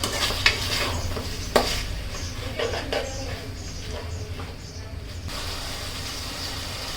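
Beef and spices for curry are stir-fried in a pot, a soft sizzle running beneath the scrape and clack of a spatula on the metal, with a few louder knocks, all heard close.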